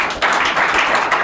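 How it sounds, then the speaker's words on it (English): A short burst of several people clapping together, dense and close, lasting about a second. "make he clap for himself."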